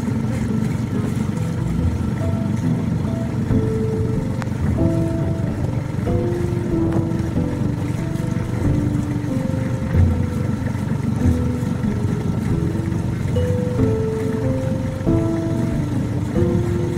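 A steady low engine drone runs throughout at an even level, a small skiff motor idling, with faint intermittent tones layered over it.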